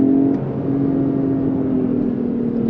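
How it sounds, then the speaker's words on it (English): A naturally aspirated V6 in a 2019 Lexus ES 350 F Sport revs steadily and close up, a smooth sustained engine drone that holds for a few seconds with no talking. "I love the sound of this naturally aspirated V6."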